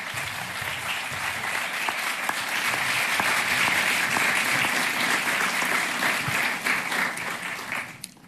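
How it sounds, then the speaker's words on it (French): Audience at a political conference in Paris attended by Maryam Rajavi breaks into sustained, full applause that swells, holds strongly and then drops away near the end. "Oui, vous pouvez les applaudir."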